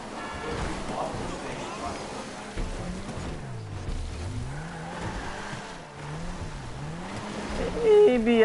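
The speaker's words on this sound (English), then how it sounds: "when this car gets stuck in the dirt, it really gets stuck" A car engine in Grand Theft Auto V revs and labours while the vehicle is stuck in dirt, its pitch rising and falling in repeated swells under steady game noise, with people talking over it.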